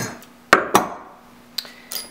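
Metal tools clink against a bolt and washers while a pin skate is assembled, a few sharp isolated taps and clicks spaced apart in a quiet room.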